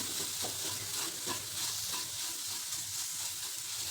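Carrot and sugar stuffing for modak stirred in a hot pan, a soft steady sizzle with repeated scraping strokes of the spoon, fairly quiet and close.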